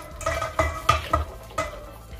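Utensil stirring milk in a metal pan while making a sugar-free flan, with several distinct clinks and scrapes against the pan at an irregular rhythm, close and moderately loud, with no talk.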